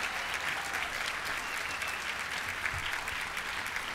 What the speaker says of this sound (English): A round of applause for this group right here